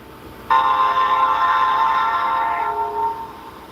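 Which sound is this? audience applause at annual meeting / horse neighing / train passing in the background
train passing in the background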